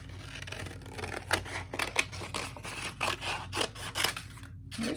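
Scissors snip through paper in a steady series of close, crisp cuts, shaping pieces for a winter bird collage; quiet and alone, without voices.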